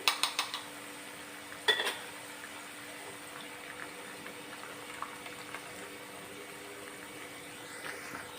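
Yogurt gravy being added to cooked okra in a pan for a Gujarati sabzi: a few sharp clinks of a utensil on cookware at the start and again shortly after, then a faint, steady simmer with occasional light taps.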